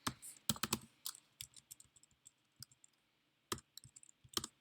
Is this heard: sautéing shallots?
no